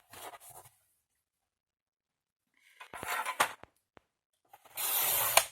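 Paper being cut to size for a handmade mini photo album, with a few short scraping strokes followed by a longer, steady swishing cut, close up in a quiet room.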